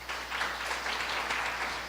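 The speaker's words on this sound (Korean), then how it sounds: "열정적으로 강연해주신 우리 홍기현 전무이사께 다시 한번 큰 박수 부탁드립니다" Audience applause after a lecture at a startup promotion agency talk, a steady wash of many hands clapping that fills the room at moderate loudness for a couple of seconds.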